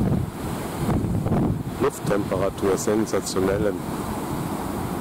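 Wind and surf at the seashore on a mild morning near full moonset, a steady broad rush of wind noise and waves running underneath someone speaking German throughout.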